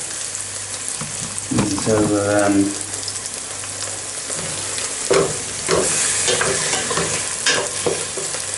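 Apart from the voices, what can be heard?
stirring Shaggy Parasol mushrooms and bacon frying in a pan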